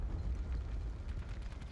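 A Hellstorm missile strike in a video game, a faint, distant rumbling explosion with low booming and crackling debris, sustained and muffled, no voices.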